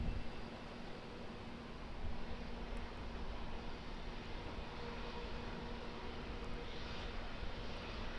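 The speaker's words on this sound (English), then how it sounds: "Good landing, Jetstar Airways." A Jetstar Airways airliner landing at Auckland Airport, a steady broad roar of engine and airflow holding at moderate distance for the whole stretch, with a faint low hum beneath and no voices.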